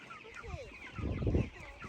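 Chickens cluck in a chicken tractor on a family farm, with short, irregular calls close by over a low rustling background.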